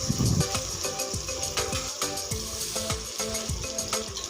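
Chopped onions fry in hot oil with cinnamon and cloves, giving a steady close sizzle. A spoon stirring in the pan adds repeated sharp scraping clicks, with no speech.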